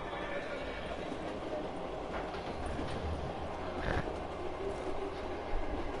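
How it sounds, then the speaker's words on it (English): Train rolling in Black Ops 3 zombies mode, a steady mechanical rumble with faint rhythmic clacking that stays loud and continuous, while players speak over it. "I hope this train's going someplace nice."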